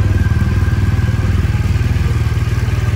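A BMW 1200 S motorcycle engine idles close by with a loud, rapid, pulsing rumble, steady throughout.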